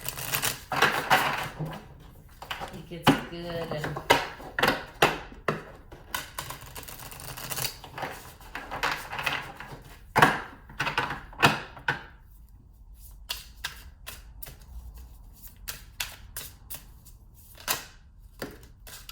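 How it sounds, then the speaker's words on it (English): Repeated riffle-and-tap bursts of a new tarot deck being shuffled close by, irregular clicks and flutters, with a few brief spoken words. "Alright, a couple more shuffles, because it is new"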